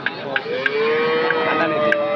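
A cow at a Saturday cattle market in Anthiyur gives a long, loud, close moo that fills the clip, with faint clicks and background murmur around it.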